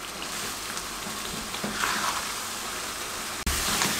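Masala brinjal and besan curry cooks in a pan on a medium-low flame, giving off a steady, even sizzle with a brief dull knock near the end.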